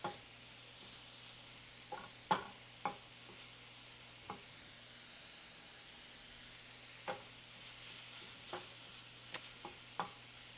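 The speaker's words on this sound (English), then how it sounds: "We've got our heat on about a medium high. We're going to brown this." Food browning in a pan over medium-high heat for egg roll in a bowl: a faint steady sizzle with occasional clicks and scrapes of a utensil stirring, quiet and close, no talking.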